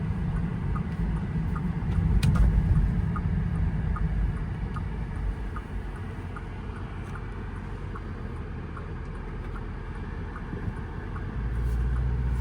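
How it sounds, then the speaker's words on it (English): Cabin of a 2020 Bentley Continental on the move, a steady, subdued low road and engine hum with faint tire roar, quiet and continuous throughout. "right now we're driving in Bentley mode"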